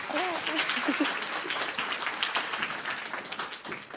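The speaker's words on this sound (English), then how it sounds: "one more round of applause for Shantay." Conference audience applause, a room of people clapping steadily throughout, with some voices and whoops mixed in at the start before the clapping continues on its own.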